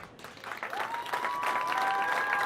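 Audience applause for two finalists at a boys state finals event, dense clapping swelling over a couple of seconds, with a faint tone or whistle sustained underneath.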